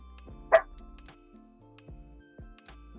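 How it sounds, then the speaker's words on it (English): A single sharp dog bark at home, loud and close, followed by quieter whimpering or yipping sounds and a low background hum. "We might just have to deal with it, like little barks here and there."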